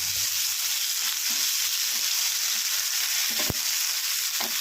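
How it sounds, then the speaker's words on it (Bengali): A paste of cashews and melon seeds fries in a pan with a constant hiss. Scattered soft scrapes and a few sharp knocks come from stirring with a spoon, and no one speaks. "এরপর দেব কাজু, চারমগজের পেস্ট। একটু নেড়ে চেড়ে নিয়ে"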